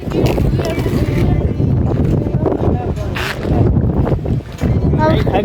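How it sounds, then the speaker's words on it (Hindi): Strong storm wind gusts at an overnight campsite during a thunderstorm, roaring loudly and steadily with buffeting rumble on the microphone, dust and soil blowing through. "बहुत तेज आंधी आ गई, इतनी तेज मतलब मिट्टी धूल हवा चल रही है"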